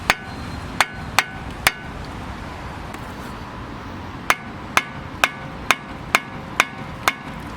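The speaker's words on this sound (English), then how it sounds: "and then just hammer this in." A wheel bearing is hammered into the hub of a Renault Megane 2 with a cheap bearing press, sounding as sharp metallic blows: four quick strikes, a pause, then a steady run of about eight evenly spaced hits, close and loud.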